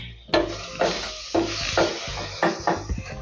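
Sukuma wiki greens being stirred in a pot of boiling water, with several distinct scraping and sloshing strokes at an uneven rhythm over a steady background sizzle, close by and fairly loud.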